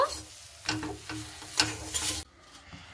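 A semolina mixture with chopped coriander is stirred in a pan, giving soft scraping strokes in an uneven rhythm with a faint sizzle, close and fairly quiet, with no talking.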